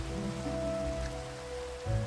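Video game rain falls at midnight as a steady, soft hiss of drops, with a low background hum and a brief thump near the end; quiet and continuous, no voices.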